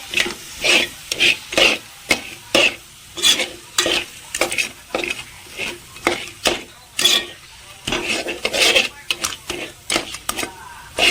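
Crab gravy with coconut is sautéed in a pan, with rhythmic stirring scrapes over a soft sizzle, repeating in short close strokes without speech.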